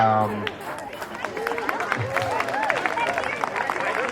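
Scattered audience clapping at an outdoor open mic night in an amphitheater, a thin, uneven patter from a few hands with chatter and voices running through it.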